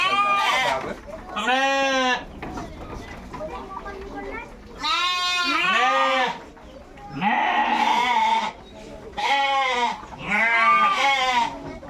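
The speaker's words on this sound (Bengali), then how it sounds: "মা ভেড়া আছে শুধু মা ভেড়া লাগানো আছে" Several ewes on a sheep farm bleat in repeated wavering cries, close by, with short pauses between calls and faint background noise.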